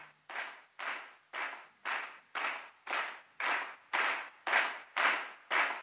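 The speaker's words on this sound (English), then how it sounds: "And then we've got the crowd clapping," Looped crowd clapping used as a music foley effect: a group claps in unison on a steady beat, about two claps per second, each burst slightly smeared, gradually growing louder as it fades in.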